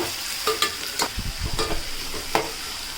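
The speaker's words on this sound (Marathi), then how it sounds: "कांदा आपल्याला तेलामध्ये चांगला शिजवून घ्यायचा आहे पूर्णपणे नरम होईपर्यंत" Finely chopped onion fries in oil with asafoetida for a dry shrimp curry, a close sizzle broken by several scraping stirs of the spoon against the pan.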